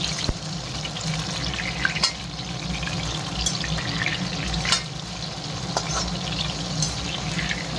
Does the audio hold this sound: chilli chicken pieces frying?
yes